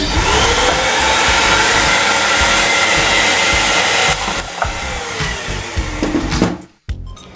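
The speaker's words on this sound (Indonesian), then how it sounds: "kekuatannya sangat luar biasa langsung kita coba tiup lagi" A Bolde Super Hoover vacuum cleaner runs in blower mode with a loud, steady broadband rush for about four seconds, then drops and wavers before cutting off briefly and restarting near the end.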